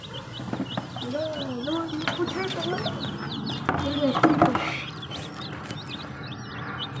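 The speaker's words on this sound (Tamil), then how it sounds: "இப்போ பார்த்தீங்கன்னா நம்ம கோழி இதெல்லாம் ஓடிட்டு இருக்கு" Farm chickens cluck and call nearby in a busy, overlapping stream as they run around, and someone talks over them.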